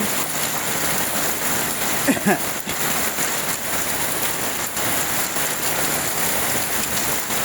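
Heavy rain pours down steadily outdoors, a dense, even roar of drops hitting surfaces throughout, with a few faint knocks and a brief rustle partway through.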